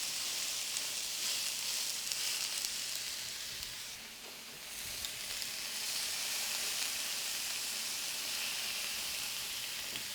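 Black pork fillets sear in a hot pan, giving a steady, loud close sizzle of frying fat that runs continuously, dipping briefly partway through before resuming.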